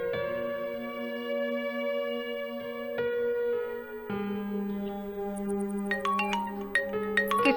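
A phone rings with a sustained electronic melody, steady and fairly loud, ending in a flurry of bright, bell-like tones.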